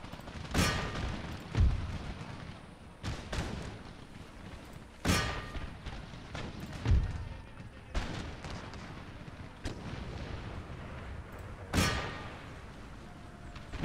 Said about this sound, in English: I'm telling two of my cannons to aim for this musketman unit here